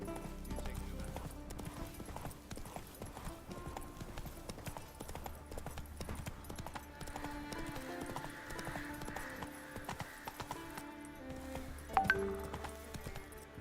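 Roach the horse gallops in Witcher 3, rhythmic hoofbeats drumming steadily for the whole stretch beneath a faint music bed, with a brief whinny-like accent near the end; no talking.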